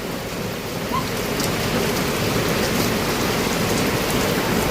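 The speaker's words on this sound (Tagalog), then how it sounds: "Dito, grabe, maulan." Heavy rain pours down steadily at a camp area, a dense, loud hiss of drops on surfaces that stays constant from start to finish with no voices.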